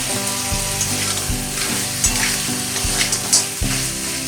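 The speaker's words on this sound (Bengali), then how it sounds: "তেল ছেড়ে দিয়েছি এবার এই কাঁকড়া আর আলু একসঙ্গে আমি দিয়ে দেবো" Crab pieces and potatoes dropped together into hot oil hiss and sizzle loudly, with repeated bursts of crackling spatter and the scrape of stirring breaking through a constant frying roar.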